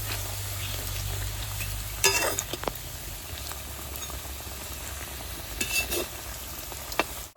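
Sweet bottle gourd pitha frying in a pan, a steady close sizzle of hot oil with a few brief clattering scrapes as the pieces are turned, no talk.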